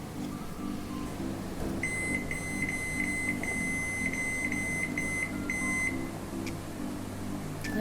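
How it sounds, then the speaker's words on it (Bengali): Microwave oven beeping while cooking chicken with butter, a steady series of electronic tones sounding over a continuous low appliance hum. "এবারে মাইক্রোতে আমি দিয়ে দেবো"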